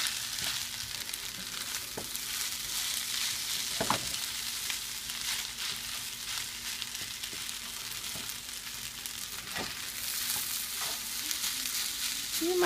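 Fried rice sizzles steadily in a hot pan, with scraping stirs and clacks of a utensil at intervals throughout, no voices present.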